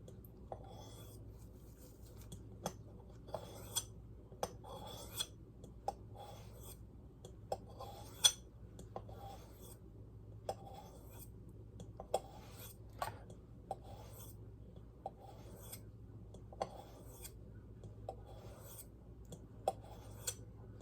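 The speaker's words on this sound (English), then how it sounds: "how I would normally sharpen, just like this" A pocket knife blade is drawn across a sharpening medium in steady repeated strokes, each a soft scraping rasp with a faint metallic tick, quiet and close, in a regular rhythm over a low background hum, with no talking.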